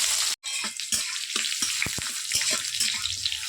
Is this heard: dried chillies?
yes